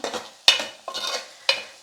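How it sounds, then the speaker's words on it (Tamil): Sliced radish stir-fried in a pan in a home kitchen, a spatula scraping and tossing in quick repeated strokes over a soft steady sizzle, close and moderately loud, with no talking. "முள்ளங்கி நல்லா வதங்கிடுச்சு"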